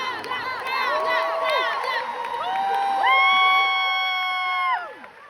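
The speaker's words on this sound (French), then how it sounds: "On peut applaudir très très fort Flavien." Concert crowd at a show at Paris's Salle Pleyel cheering for a crew member, with loud, sustained high-pitched screams and whoops rising over a general crowd roar.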